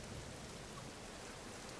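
Steady rain falling in The Forest video game, a constant, even hiss of drops with no breaks, fairly quiet and heard alone.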